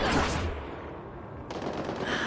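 Rapid automatic gunfire in the video game Mass Effect: Andromeda, dense bursts at the start and again after a brief lull, loud and close.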